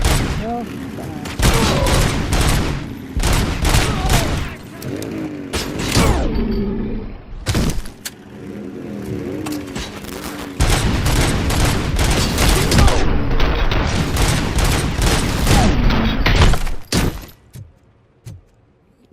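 Loud, dense gunfire in RoboCop: Rogue City, continuous rattling bursts and impacts with short pauses, dominating throughout before tapering off at the end.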